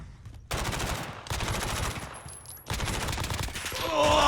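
Bursts of rapid automatic gunfire in a competitive Call of Duty League 2020 Search and Destroy match, loud dense volleys in two long runs separated by a brief pause, ending in a rising rush.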